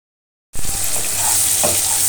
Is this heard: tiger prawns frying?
yes